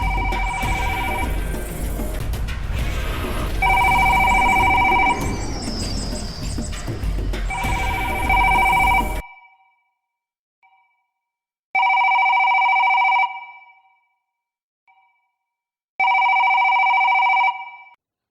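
A phone call goes unanswered: a loud ringing tone repeats under a busy mix of voices and sounds, then continues alone as separated bursts of electronic ringing with silent gaps between them.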